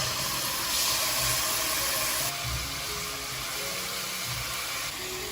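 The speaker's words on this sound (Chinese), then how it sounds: "留一点点底油，用来炒五柳菜" Vegetables stir-frying in a little leftover oil in a wok, a steady close hissing sizzle with faint low clatters of the spatula.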